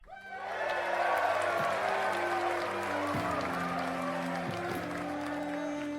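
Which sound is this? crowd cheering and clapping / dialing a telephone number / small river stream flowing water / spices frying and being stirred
crowd cheering and clapping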